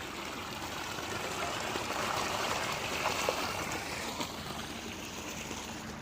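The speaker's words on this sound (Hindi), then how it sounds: "पानी रेगुलर चल रहा है यहाँ पर।" Irrigation water runs steadily through a farm field being readied for wheat, a continuous rushing, trickling flow close by, with no voices.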